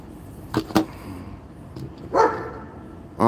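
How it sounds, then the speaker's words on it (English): A dog named Max barks several times in short, sharp bursts at uneven intervals, with a louder bark near the end, fairly close and alone against a quiet outdoor background. "All that dog does is bark."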